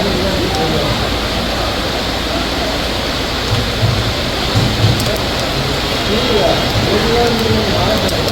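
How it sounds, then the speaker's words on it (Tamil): Heavy monsoon-style rain pours steadily around Thirukovilur in Tamil Nadu, a dense continuous roar of water close by with no clear thunder; faint voices murmur underneath. "பல்வேறு பகுதிகளிலும் கனமழை பெய்தது"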